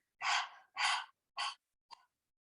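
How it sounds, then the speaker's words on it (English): Four forceful panting exhalations with the tongue out during a gentle yoga flow, breathy and close, the first three long and strong, the last short and soft, separated by brief silences. "we're going to expel the tongue. And it's more like a panting."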